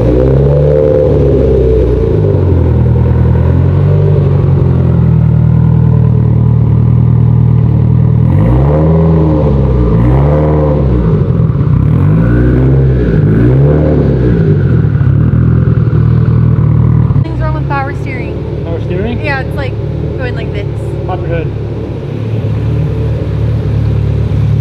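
A Mitsubishi Evo X engine runs with a loud, close rumble, rising through several revving swells in the middle before settling back to a rougher idle, with faint clatter near the end.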